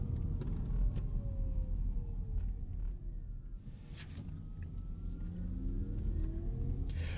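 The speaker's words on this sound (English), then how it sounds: "you can hear all of that whirring as the regenerative braking kicks in" A 2021 Audi e-tron Sportback slows on regenerative braking, a faint rising and falling electric whir over low road rumble inside the cabin, with a brief brighter burst midway.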